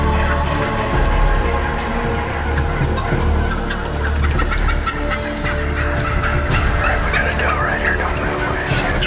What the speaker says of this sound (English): Turkeys start to get louder.